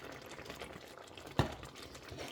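Udon noodles boiling in a pot in a home kitchen, a faint, steady bubbling with one brief sharper clink midway and no talking.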